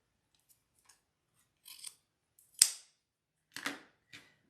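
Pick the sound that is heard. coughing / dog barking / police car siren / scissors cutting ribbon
scissors cutting ribbon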